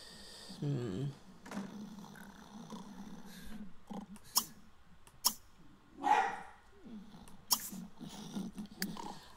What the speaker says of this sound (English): but that was the dog barking